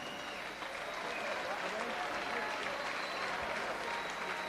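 Boxing arena crowd applauding Steve Murray at a lightweight bout against Graham Earl, a continuous loud roar of clapping and cheering with voices mixed in.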